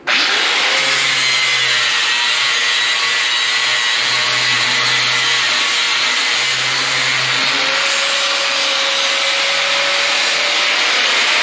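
A power tool grinds and smooths the freshly cut edges of a steel plate in a welding shop, giving a continuous loud, harsh abrasive whir with slight shifts in pitch as pressure changes.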